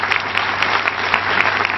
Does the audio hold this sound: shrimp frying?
no